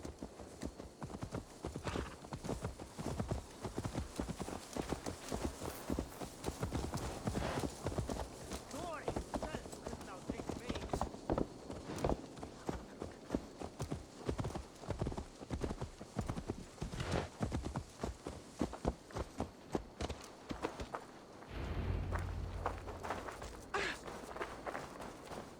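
Horse hooves clip-clop steadily while riding in the Assassin's Creed Valhalla video game, a continuous walking-to-trotting rhythm close up, with game character voices talking over it.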